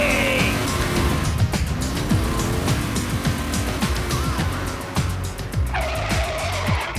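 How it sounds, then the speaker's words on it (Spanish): A car engine roars loudly with squealing, skidding tires and rising, falling revs. The sound is close and continuous, like a chase scene. "¡Apaga el motor!"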